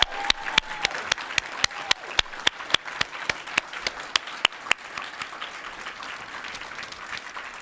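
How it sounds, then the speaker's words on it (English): At a university teaching celebration, an audience gives graduates a round of applause: a broad patter of clapping runs throughout while one nearby pair of hands claps sharply in a steady beat for about five seconds before the crowd sound thins out. "let's give them a round of applause"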